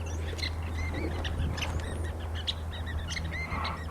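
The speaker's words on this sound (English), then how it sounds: "Some birds back there having a heyday on my tree." Birds chirp and tweet in a tree beside a horse training area, with many small overlapping calls over a steady low hum and background noise, no talking.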